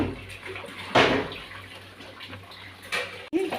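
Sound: water draining from boiled gourd in strainer

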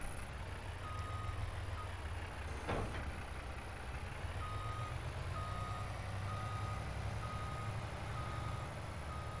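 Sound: flatbed semi-trailer truck reversing with beeps

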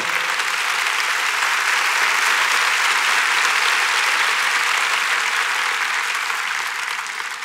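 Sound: applause

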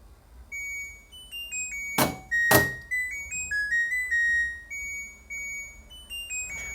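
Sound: washing machine end-of-cycle melody

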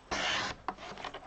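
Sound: trimming inkjet photo paper card

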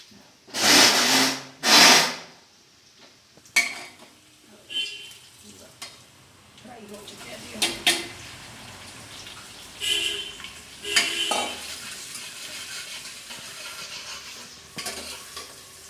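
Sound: masala with onion and tomato frying and being stirred in a pan

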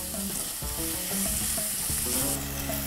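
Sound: soup ingredients with ketchup frying together in a pot

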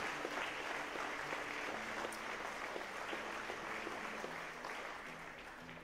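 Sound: audience applauding at a concert

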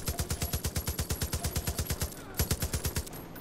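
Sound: gunfire in the video game Far Cry 5

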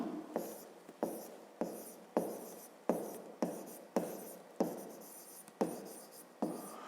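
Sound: writing by hand

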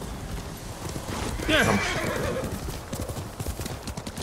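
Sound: horse galloping, Ghost of Tsushima video game

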